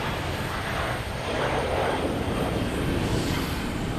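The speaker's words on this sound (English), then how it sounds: "Airbus 320 going to Fort Myers." Airbus A320 airliner taking off at Logan Airport, a steady, loud broadband jet engine roar that swells slightly midway and holds throughout, with no voices over it.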